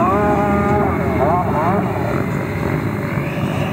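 An Odyssey JETFAN-120 PRO electric ducted fan RC jet weighing 10.5 kg, flying on a 16s setup, gives a loud, constant whine and rush with shifting pitch, while someone talks over it.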